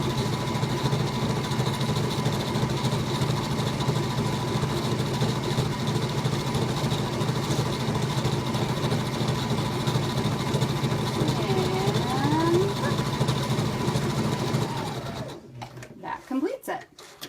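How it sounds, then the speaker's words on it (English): Sewing machine running steadily as it stitches a fabric strip for a rosette flower straight to the end with no backstitching, a continuous close hum for about fifteen seconds before stopping, followed by a few faint handling clicks. "I'm just going to sew all the way to the end without back stitching any of it."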